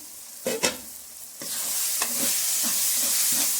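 Tomatoes sauté in a pan on the stove, opening with a few scraping stirs before a steady, close sizzle settles in and continues alone.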